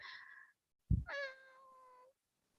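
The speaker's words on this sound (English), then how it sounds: "It's a kitty?" A cat meows from behind a wall, giving one short cry and then a longer drawn-out meow after a brief thump, fairly faint and muffled in an otherwise quiet space.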